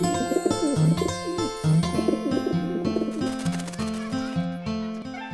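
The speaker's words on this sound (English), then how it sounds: "Those are not ordinary pigeons. Those are homing pigeons." Homing pigeons cooing close by on a farm, with a run of soft, repeated rolling coos and a few faint chirps.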